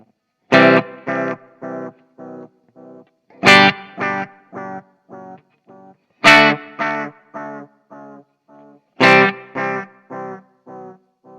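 Distorted guitar chords played through an Xvive Echoman Mini analog delay pedal with feedback and modulation raised. Four struck chords each trail off into a chain of fading, wavering repeats, close and loud with no talk.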